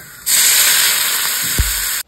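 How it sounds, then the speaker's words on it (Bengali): Water poured into hot frying lentils in a pan sets off a loud, steady broadband hiss that starts abruptly and holds for nearly two seconds, with a brief low thump near the end before it cuts off. "ডালে জল ঢেলে দিয়েছি, এবার ফুটলে ড্রাই হলে নামিয়ে নেবো।"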